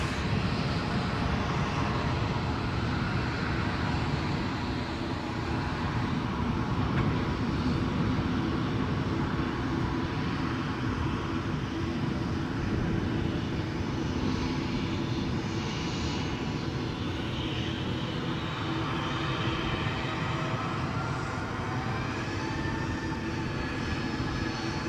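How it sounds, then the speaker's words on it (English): Ryanair Boeing 737 at Edinburgh Airport trailing a Dreamliner, its engines a continuous, loud jet roar with a slowly shifting whine that persists for the whole stretch, no voices. "Probably hear the sound of a Ryanair 737 tracking behind the Dreamliner"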